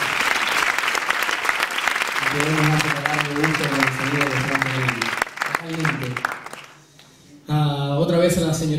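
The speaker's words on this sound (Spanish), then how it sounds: "Un aplauso para ellos." An audience at a presentation event in Ceutí claps steadily and enthusiastically, with a voice and tonal sounds over it, briefly fading near the end before surging again.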